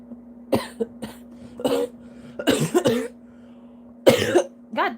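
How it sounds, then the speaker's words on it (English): A sick person with asthma coughs several times in short, harsh bursts, close and loud, with brief pauses between fits and a quiet electrical hum in the background. "my cough wants to come back"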